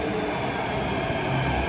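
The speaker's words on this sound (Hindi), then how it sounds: "देख सकते हैं मेट्रो आ चुकी है।" A Delhi metro train arrives at a station, filling the space with a steady, loud rumbling roar of wheels and motors, continuous throughout.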